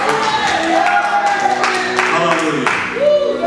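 A congregation claps in praise to the Lord during a church service, a short burst of sharp hand claps amid voices calling out and talking over the clapping.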